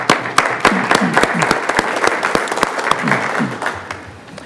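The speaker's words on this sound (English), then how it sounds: "So I'd like to give applause for Larry" Applause from the audience at a Yucca Valley town council meeting honouring Larry, a modest group clapping with distinct sharp claps that thin out toward the end, while low voices murmur underneath.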